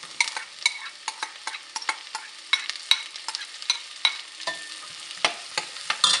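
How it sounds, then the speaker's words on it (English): Garlic sautéing in butter over a medium flame, stirred in a pan with a run of short, close scraping strokes at a steady, brisk rhythm over a soft sizzle. "Stir that up for a minute, and then I'm going to be adding my onions."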